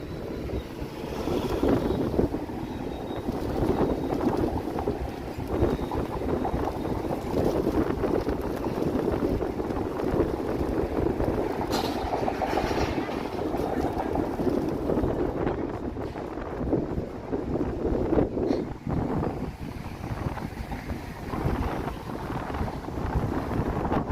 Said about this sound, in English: Big wind here